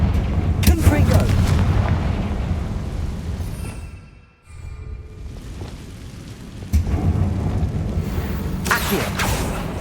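Confringo fire-blast spell in Hogwarts Legacy erupts in a loud rumbling explosion that dies away to near silence, then heavy blasts and crackling resume close by.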